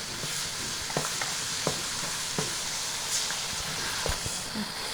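Curry leaves and ginger-garlic paste sizzle in hot oil in a pan, with a steady close frying hiss broken by a few sharp crackles and pops.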